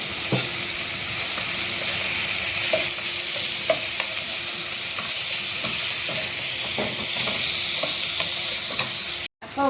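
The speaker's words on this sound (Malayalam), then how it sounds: "ഉള്ളിയും ഇതെല്ലാം കൂടെ വേഗം വളർന്ന് വഴന്ന് കിട്ടാൻ വേണ്ടി ഇതിൻ്റെ കൂടെ ഇച്ചിരി ഉപ്പിട്ട് കൊടുത്താൽ വേഗം വഴന്ന് കിട്ടും" Onions with a pinch of salt sauté steadily in a pan for chicken curry, giving a loud, continuous sizzle with frequent stirring scrapes and taps throughout.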